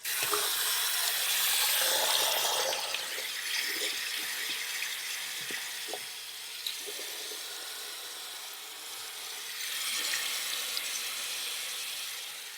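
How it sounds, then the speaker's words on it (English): Cold tap water runs steadily into a sink for a barber-style shave rinse, a continuous close hiss that surges a little louder near the start and again toward the end, with faint clinks underneath. "Let's get the cold rinse going"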